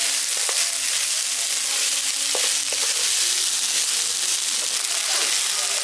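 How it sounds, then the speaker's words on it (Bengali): Fried cashews and raisins are stirred into pea pulao in a pan over a steady, loud sizzle, with occasional scraping clinks of the spoon. "আর যে কাজু বাদাম কিশমিশগুলো ভেজে রেখেছিলাম এটা দিয়ে দিচ্ছি। ভালো করে মিশিয়ে দিচ্ছি।"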